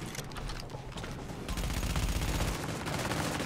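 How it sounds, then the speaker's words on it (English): Dense, continuous gunfire in The Division, fought at challenging difficulty inside the WarrenGate Power Plant, a loud, packed fusillade of overlapping shots with no clear gaps. "Putting bullets into his face."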